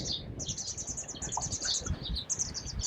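Small birds call in a wetland inside a doline, giving a steady run of quick, high chirps and tweets over low, rumbling outdoor background noise.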